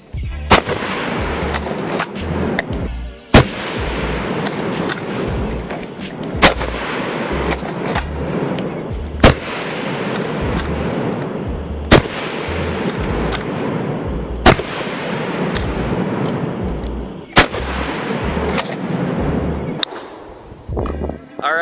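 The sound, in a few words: rapid gunfire from a rifle magazine dump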